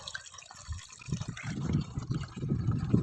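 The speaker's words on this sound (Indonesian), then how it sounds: "Ini aku mau isi airnya dulu." Cold spring water filling a container outdoors on a mountain plateau picnic, a steady trickling and splashing pour that grows louder and fuller toward the end, close by with no talk.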